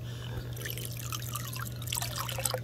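Water drains steadily out of a hose from a homemade pool heater, plumbed with a brass 3/4 MIP to hose bib fitting, trickling and splashing continuously nearby with a low hum underneath and no talk.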